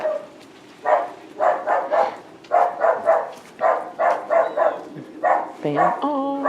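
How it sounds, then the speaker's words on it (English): Two dogs barking indoors in a quick series of repeated, mid-distance barks with short gaps, ending in a whining yelp. "Two dogs."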